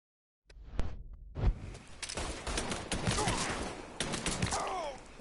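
Video game gunfire in a Mafia III firefight: after a brief silence, a few sharp separate shots ring out, then a dense, continuous volley of loud overlapping bursts with background game noise.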